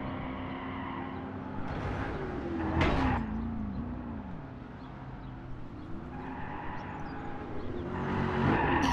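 Cars racing and drifting in the video game GRID 2, a steady engine drone with tyre squeals rising around the middle and end, no talk over it.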